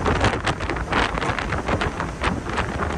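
A 1970 Mercedes-Benz 280 SL two-seater roadster cruising at 60, heard from the passenger seat as a loud, steady rush of wind buffeting past the open car.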